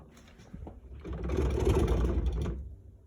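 A pull-out trash can in a cabinet is shaken on its tracks, giving a close, moderately loud rattling and clattering of metal runners that builds and holds for about two seconds before dying away.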